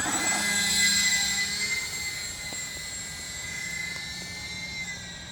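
A small UMX C-130 model plane's electric motors whine steadily overhead, swelling then easing as it does a low full-flap touch and go, with a faint wind rush.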